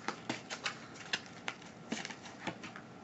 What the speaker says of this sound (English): As I shuffle the deck